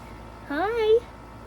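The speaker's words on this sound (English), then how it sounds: "Oh, look, it's a cat." A cat on a homestead gives one short, rising-then-falling meow, close and clear against a quiet background.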